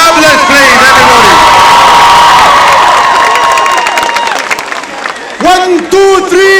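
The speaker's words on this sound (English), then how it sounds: "Can we give a big round of applause to Khalid from Nablus, please, everybody?" A crowd at a Palestine solidarity rally in Manchester Piccadilly cheers, whoops and applauds loudly and continuously, with shouting voices rising above the clapping, briefly dipping before another burst of cheers.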